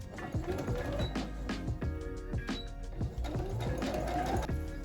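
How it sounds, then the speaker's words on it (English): Sewing machine stitching around the edges of scrap fabric pieces for a simple summer top, a close mechanical whirring run with brief pauses and clicks, continuous through the stretch. "I'm going to sew this all around."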